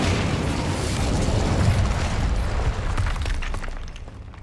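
The Incendio fire spell cast in Hogwarts Legacy: a dense, roaring burst of flame holds steady and loud, then thins and fades toward the end.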